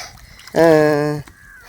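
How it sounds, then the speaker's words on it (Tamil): A duck gives a single loud, nasal honking call up close during a duck hunt, lasting about half a second before fading into quiet outdoor background. "இங்கே பாருங்க ரெண்டு வாத்து"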